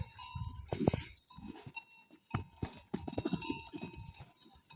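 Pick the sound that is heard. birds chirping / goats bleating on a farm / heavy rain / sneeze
goats bleating on a farm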